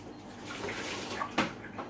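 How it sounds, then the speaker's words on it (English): Tap water runs and splashes onto saltfish in a Jamaican kitchen, a steady close gush with a brief louder splash partway through, no talk. "I get me some water now on the saltfish"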